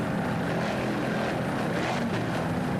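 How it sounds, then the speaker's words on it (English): Two 500 horsepower Mercury inboard engines drive an offshore racing powerboat, a loud, continuous roar that holds steady throughout. "Powered by two 500 horsepower Mercury inboard."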